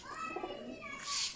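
A Cheena pigeon gives a soft, brief coo, heard close and alone in a short moment.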